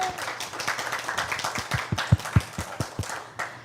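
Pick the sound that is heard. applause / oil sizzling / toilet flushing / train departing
applause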